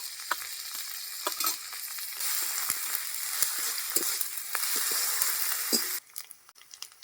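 Onion paste with garlic and ginger paste fries in oil for a kuche fish curry, a steady moderate sizzle with stirring clicks and scrapes, quieting abruptly to sparse sputters near the end.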